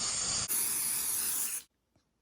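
Apple Brand Garde protector sprayed from an aerosol can onto suede Ugg boots: a close, loud continuous hiss with a short break before a second longer burst, which cuts off abruptly into near silence.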